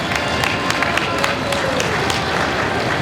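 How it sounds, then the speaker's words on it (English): A costume-contest audience at a gaming convention applauds a She-Ra entrant, a loud, sustained burst of clapping from a crowd with some cheering mixed in. "Big round of applause for She-Ra. Let's give it up."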